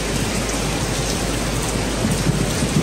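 Heavy, steady rain from Hurricane Ian pours down loudly and continuously, a dense roar of drops drumming on surfaces with no pauses.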